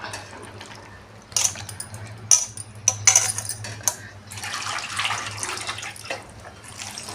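Pieces of goat meat being rinsed two or three times in a vessel of water, with splashing and sloshing bursts and clinks of metal, while a low steady hum runs underneath.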